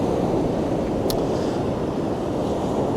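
Ocean waves washing up a bank on the shore, a continuous loud roar of surf with wind buffeting the microphone.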